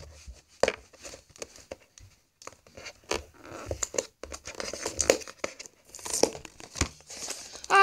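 Tape and cardboard packaging being torn and crinkled open on a HyperX Cloud Stinger headset box, with sharp irregular rips and rustles and quiet pauses between them.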